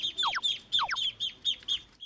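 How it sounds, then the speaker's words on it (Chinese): Ducklings hatched in an incubator give high, rapid peeping chirps in quick repeated bursts, close and clear, with no talking over them. "啊，孵出来的小鸭子。"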